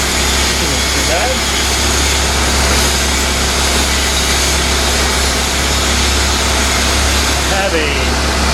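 Steady low engine idle of a Toyota FJ Land Cruiser at about 670 rpm, rumbling continuously, loud and close, with a constant drone and no change in pace.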